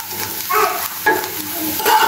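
Raw rice being dry-fried in a hot pan, short scraping stirs with a dry rattling sizzle in a few quick bursts.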